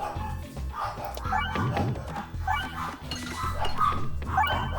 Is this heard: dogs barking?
yes